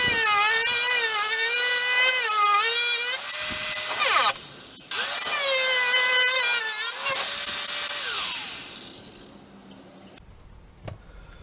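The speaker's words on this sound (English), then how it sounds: "Now what I'm doing is a wire wheel, just going on the bottom edge and exposing all the spot welds." A wire wheel whines loudly with a steady, wavering pitch as it strips the bottom edge of a Ford Transit Connect sill to expose spot welds, pausing briefly midway, then spinning down to quiet near the end.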